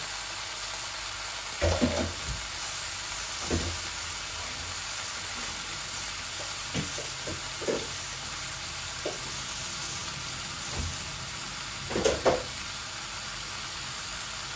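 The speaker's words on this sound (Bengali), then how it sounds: "এই দেখুন চিকেনটা ঢেলে দিচ্ছি একসাথে।" Chicken pieces tipped into a hot pan burst into a steady, close sizzle, with occasional scraping knocks of stirring by hand breaking through the continuous hiss.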